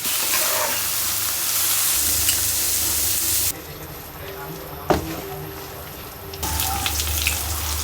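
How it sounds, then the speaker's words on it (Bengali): Black cumin seeds tempering in hot oil with bottle gourd frying in a pan, a loud steady sizzle that pauses midway while a tap runs, then returns, with a voice speaking faintly. "লাউ ভাজিতে একটু কালো জিরা দিলে ভাল লাগে। কালো জিরা ফোড়ন দিলাম"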